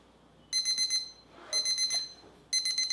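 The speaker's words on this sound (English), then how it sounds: "Once it hits zero, it will beep, alarming me and letting me know that the time is up" Three bursts of rapid electronic beeping from a ThermPro TP-12 digital wireless thermometer's timer, each about half a second long, spaced a second apart, fairly close and clear.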